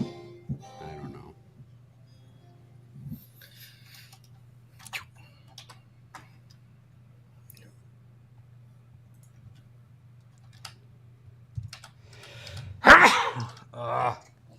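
A single sharp sneeze from someone near a microphone breaks out late, loud and close, after a long quiet stretch of steady ticking, a low hum and soft clicks.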